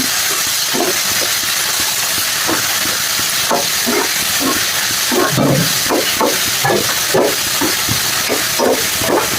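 Soya granules tossed with chili powder and garam masala roast in a pan, producing a steady loud hiss broken by repeated scraping and clicking strokes, with no voices.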